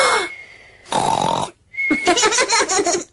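A cartoon voice from Peppa Pig imitates loud snoring in long, rough snorts, followed by a burst of snorting laughter.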